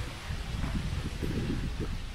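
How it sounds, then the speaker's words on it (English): A gentle breeze rustles the leaves of trees in a city park farm in East London, a soft, steady low hiss and flutter, faint and continuous with no voices over it. "breeze, wind against the trees, the leaves of the tree, when it makes that sound."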